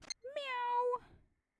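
Cat meowing in the Phoenix Wright Ace Attorney video game: one clear, sustained meow lasting about half a second, rising and then falling, preceded by a short click and standing alone with no talk.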